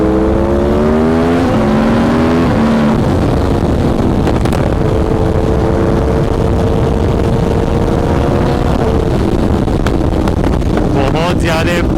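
An Aprilia RSV4 superbike's engine revs hard through gear changes, its pitch climbing and dropping under strong wind noise, with a flurry of sharp exhaust pops near the end.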